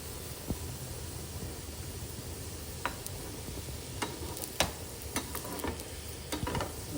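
A sweet cucumber thalipeeth with jaggery sizzles quietly in a pan, a steady soft frying hiss broken by scattered light ticks and pops.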